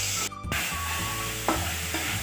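Ginger, garlic and onion paste fries in hot white cooking oil in a pan, giving a steady close sizzle with a few short stirring scrapes and one sharp clatter near the start.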